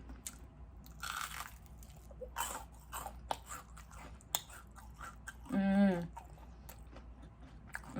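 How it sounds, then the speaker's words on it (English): Someone eats crispy Chinese takeout with shrimp tempura at close range, producing scattered crunchy bites and wet chewing, with one louder burst of mouth noise near the end. "The crunch in there."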